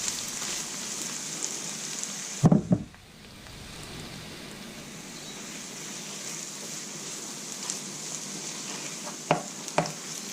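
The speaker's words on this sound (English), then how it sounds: "start frying that in that oil" Steady sizzling of onion, garlic and ginger frying in hot oil, with a loud clatter near the start and a few sharp stirring scrapes later.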